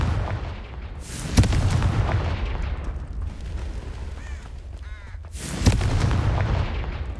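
Two heavy booming blasts from the Confringo explosion spell in the game Hogwarts Legacy burst out about four seconds apart, each trailing into a rumbling roar among other combat sounds.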